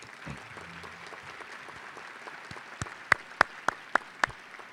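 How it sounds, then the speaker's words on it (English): Applause for sponsors at an Austin Ed Fund education luncheon: a soft, steady patter of many hands in a hall, thinning into a few sharp, isolated claps near the end. "Please welcome or acknowledge our sponsors at this time by giving them a round of applause."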